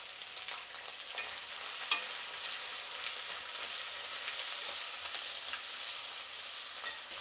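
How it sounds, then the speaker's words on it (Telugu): Onions, green chillies and curry leaves fry in hot oil for masala karam dosa filling, giving a steady, even sizzle with occasional faint stirring clicks, fairly quiet and with no one talking. "ఇప్పుడు ఈ ఎర్రగడ్డలు, పచ్చిమిర్చి, కరివేపాకు బాగా వేగాలండి."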